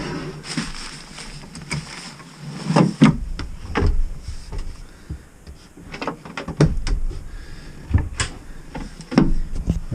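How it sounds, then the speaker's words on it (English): Built-in cabinet drawers in a camper van slide open and shut with repeated wooden knocks and thuds, one drawer catching as it moves, spread unevenly across the clip at close range. "We have our 2 drawers. This one catches on there, so we'll do something about that."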